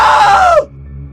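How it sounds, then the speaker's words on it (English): A single loud, high scream from a character in the video game What Remains of Edith Finch, sliding downward in pitch for about half a second before cutting off sharply, leaving quiet background. "Now that was a great scream."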